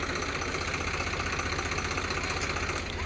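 A tractor engine idling nearby, a loud, even mechanical rumble with a rapid knocking pulse that runs steadily without pause.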